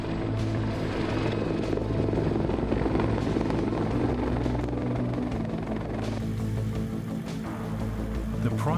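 16-ton Super Stallion cargo helicopter, a steady, loud rotor thump and turbine whine that stays close throughout, with no voices.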